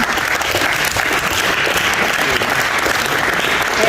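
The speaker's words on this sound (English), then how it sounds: "So just a round of applause overall for the varsity team." Dense, loud audience applause for a varsity basketball team at an awards ceremony, a continuous roar of many hands clapping together with no break.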